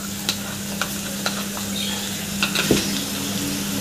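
Puréed tomato hits a hot pan of chicken tikka masala gravy and sizzles steadily, with a few sharp scrapes and clicks of stirring near at hand and no talking.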